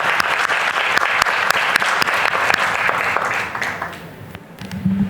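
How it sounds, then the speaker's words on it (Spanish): An audience at an institutional panel on democracy claps loudly and continuously, the crowd's applause holding steady before thinning and fading toward the end. "Un fuerte aplauso, por favor."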